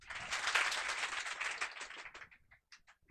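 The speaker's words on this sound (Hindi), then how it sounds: "एक बार जोर से ताली बजाओ" A class of students breaks into loud clapping, a dense burst of applause that swells, holds for about two seconds, then thins out into a few scattered final claps.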